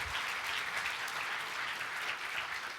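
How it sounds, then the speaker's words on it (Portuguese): A church congregation gives a round of applause for Jesus, steady dense clapping that swells and eases slightly over a few seconds, with no talk over it. "Dá uma salva de palmas para Jesus"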